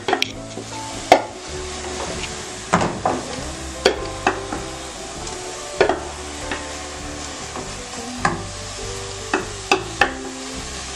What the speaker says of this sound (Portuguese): Agora vamos deixar fritando aqui.